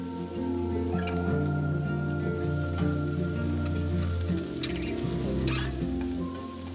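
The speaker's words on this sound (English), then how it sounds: "Saute the carrots and broccolini for another couple of minutes." Carrots and broccolini sizzle and crackle steadily in a hot sauté pan as part of a cauliflower fried rice, a continuous close frying hiss with no talking.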